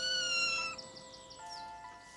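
A six-week-old kitten, separated from its mother in a barnyard, gives a few high, thin meows in quick succession, close and clear against a quiet background.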